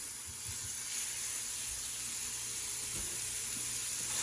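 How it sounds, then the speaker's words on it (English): Steady, broadband sizzling of one pound of ground beef frying in a hot frying pan, a continuous hiss with faint low crackles, close and fairly loud. "I'm gonna just fry this up real quick"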